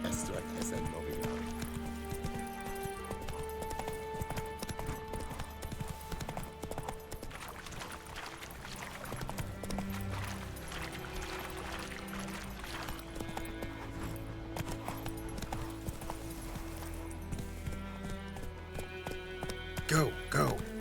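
Roach, the horse in The Witcher 3, gallops in rhythmic hoofbeats over game music, with a voice speaking at times above the clopping.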